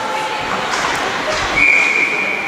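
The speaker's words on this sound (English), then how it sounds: "Whistle blows." Referee's whistle at a U16 junior women's ice hockey game, one sustained shrill blast of about a second rising over steady rink crowd noise.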